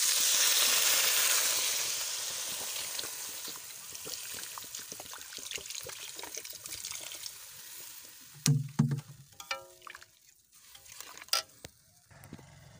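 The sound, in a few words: crab curry sizzling after water is added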